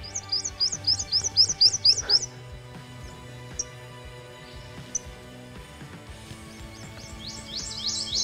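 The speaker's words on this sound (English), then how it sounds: "What a beautiful little bird." A small bird perched close by gives a burst of bright, rapid chirps, then falls quiet, then chirps softly again, loud and near against light outdoor background noise.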